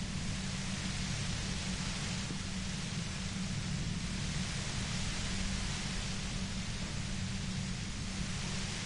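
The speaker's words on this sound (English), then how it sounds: "You hear through the white noise." Dense hiss of white noise in the video game Disco Elysium, steady and unbroken throughout, loud and close with no voices.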